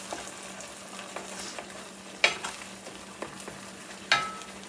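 Garlic sizzles in a hot pan while being stirred, a steady frying hiss broken by several soft scraping strokes and two sharper clinks of the utensil.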